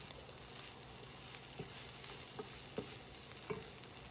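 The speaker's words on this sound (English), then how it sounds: "I'm adding in the rest of my flour and I'm going to stir it up" Flour is stirred into leftover oil in a pan, with a soft sizzle running underneath and a few light scrapes and taps of the utensil at irregular intervals, fairly quiet and without speech.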